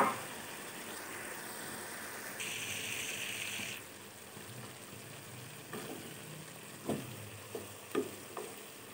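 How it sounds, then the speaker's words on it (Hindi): Cabbage and mixed vegetables fry in a pan for Chinese-style fried rice, a soft steady sizzle with a brief louder hiss partway, then a few light taps and stirring knocks near the end, fairly quiet overall. "तो अब मैं इसके अंदर ऐड करूंगी बंद गोभी, और इसे भी अच्छी तरह से फ्राई कर लूंगी"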